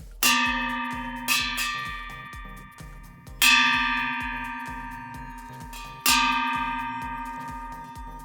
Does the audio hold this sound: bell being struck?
yes